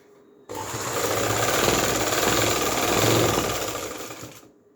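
A sewing machine runs a side seam on a kurti, starting abruptly after a brief pause, then buzzing loudly and evenly for about four seconds before cutting off.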